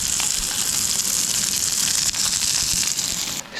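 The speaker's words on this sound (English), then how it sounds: "Sizzling up, getting nice golden brown" A continuous, loud sizzle of brook trout frying in a hot pan, crackling steadily without pause and with no talking.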